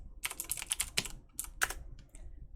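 Rapid typing on a computer keyboard, close and clear, with bursts of quick key clicks separated by brief pauses and a few final isolated taps.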